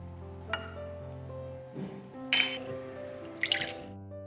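Small eggs being cracked and separated into whites and yolks for a chocolate cake, heard as faint drips, light clinks and a few brief splashy taps against a dish over a quiet tonal background.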